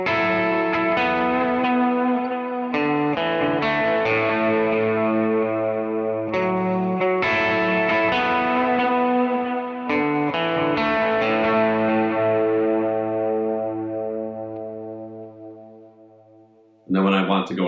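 Electric guitar run through a Kemper Profiler with boost, delay and bright reverb, playing sustained distorted chords and notes with a wet, echoing tail that rings out and fades, then a fresh strike at the end.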